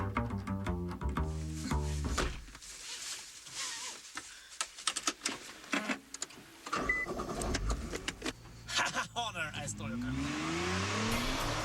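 Nissan GT-R driving and accelerating on Colorado mountain roads near Aspen, its engine note rising and falling through several revving pulls with gear changes, loud and close, with someone talking over part of it.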